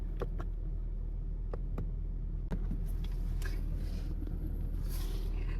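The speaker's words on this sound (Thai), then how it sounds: "สตาร์ทรถแล้วค่ะทุกคน" A car engine just started and idling, a steady low rumble close by with a few scattered clicks and taps over it.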